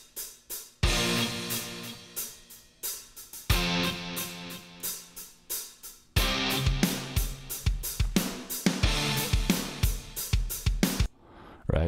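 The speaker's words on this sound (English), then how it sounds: "So what we can then do is set the right delay to feed back like we were doing" Mono delay in Pro Tools feeding back into itself on a musical phrase, loud struck notes repeating in echoing, decaying trails that stack up and pile into dense repeats.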